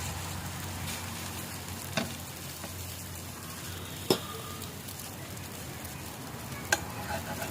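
Porotta cooks on a flat pan with a little oil sprinkled over it, giving a steady, even sizzle throughout, broken by a few faint clicks and taps.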